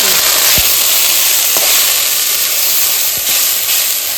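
Greens tossed into hot oil with garlic and black cumin seeds hiss and sizzle steadily and loudly up close, with a few faint clinks of a utensil against the pan.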